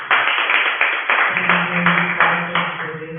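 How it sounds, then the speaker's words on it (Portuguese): A church congregation claps in a steady rhythm, the sharp claps repeating over soft sustained musical tones for a few seconds. "Dê uma linda salva de palmas para o Senhor Jesus."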